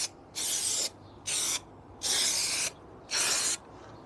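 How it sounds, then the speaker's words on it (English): Short bursts of Evo-Stick multi-purpose impact contact adhesive hiss from an aerosol can, four separate sprays with brief pauses between them, close and clear with no talking. "impact contact adhesive, so I'm going to just spray that over"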